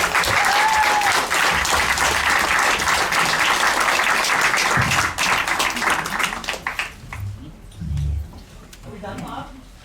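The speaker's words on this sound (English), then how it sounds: "Big round of applause, please." Audience at a candidate forum breaks into loud, sustained applause that fills most of the stretch, then tapers off around the sixth second as voices and a few scattered claps remain.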